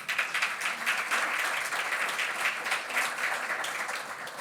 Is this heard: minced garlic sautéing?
no